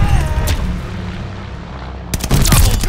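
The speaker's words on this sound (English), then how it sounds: "Watch it, stun grenade!" A stun grenade goes off amid gunfire in the shooter game Call of Duty: Vanguard, with heavy booms at the start and again near the end and dense battle noise between.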